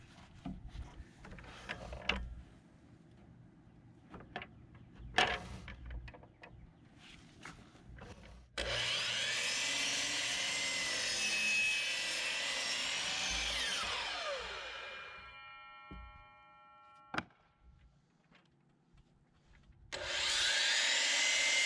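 A power saw cuts rough-sawn lumber from a sawmill for raised garden beds, whining loudly and steadily for several seconds and then winding down, with tool clatter and handling thumps before and a second cut starting near the end.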